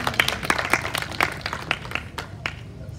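An audience claps for Maman Jeannette at an Earth Day gathering, a scattered, moderately close round of applause with uneven hand claps over a low murmur of the room.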